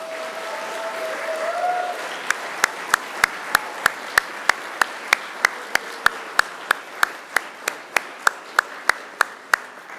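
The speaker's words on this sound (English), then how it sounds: "So please give them a mighty round of applause." Sharp, evenly spaced claps ring out at a steady beat, rising after a brief tonal voice or whistle. They honour the families of graduates at a Macquarie University graduation ceremony.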